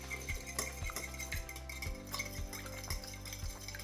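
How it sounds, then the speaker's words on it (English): Eggs and milk are whisked together in a bowl, giving repeated light clinks and taps at a steady rhythm. A musical hum runs underneath. "we're gonna crack 2 eggs into a bowl, and we're gonna add 2 tablespoons of milk and make sure we just mix it all together and incorporate it"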